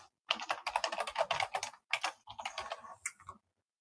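A strong password is typed on a computer keyboard while setting up a Linux virtual machine in ESXi: quick bursts of close, crisp key clicks in a few runs with brief pauses between, no voices.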